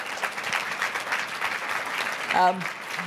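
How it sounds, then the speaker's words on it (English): An audience claps steadily in sustained applause at a conflict-prevention and peace event, a dense patter of many hands, with a brief tonal voice-like sound near the end. "she deserves a round of applause for that very good answer"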